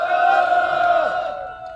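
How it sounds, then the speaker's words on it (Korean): A crowd at an outdoor construction workers' rally in a station plaza shouts a sustained, loud collective cheer, voices blending into one steady roar that fades slightly at the end. "함성 시작. 함성 시작."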